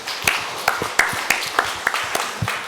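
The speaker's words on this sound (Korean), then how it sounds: "하나님께 영광의 박수 돌려드리겠습니다." A church congregation clapping in a steady rhythmic beat, about three claps per second, loud and close with a faint voice underneath.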